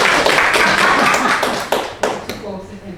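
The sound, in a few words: audience applause at a lecture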